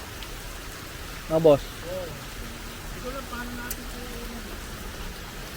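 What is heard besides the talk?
rain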